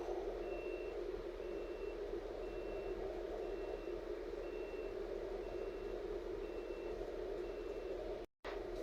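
Truck reversing with backup alarm, a regular series of evenly spaced high beeps over a steady diesel engine idle and rumble at a bus terminal, moderately distant and continuous.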